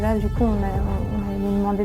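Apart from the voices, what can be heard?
None of the usual background noises is heard.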